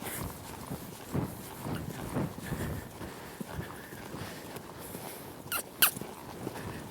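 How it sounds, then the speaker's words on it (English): Muffled hoofbeats of a mare loping in circles in a steady three-beat rhythm on soft ground, moderately close, with a couple of sharper knocks near the end. "I'll roll this mare up to a lope, and I'm just going to lope a couple circles here"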